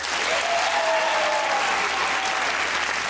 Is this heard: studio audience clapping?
yes